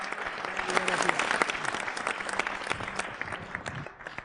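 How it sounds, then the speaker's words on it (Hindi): Dense, sustained audience applause welcoming poet Saurabh Jain Suman at a New Year kavi sammelan poetry gathering, a steady wash of many hands clapping for about four seconds before fading slightly at the end. "जोरदार तालियों से स्वागत कीजिए सौरभ जैन सुमन का।"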